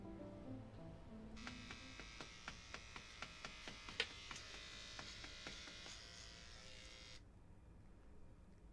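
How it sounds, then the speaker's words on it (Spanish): An electric shaver runs steadily for several seconds, its buzzing hum close and fairly quiet, with faint rhythmic ticks as it passes over the skin, then it cuts off. "Te estás afeitando."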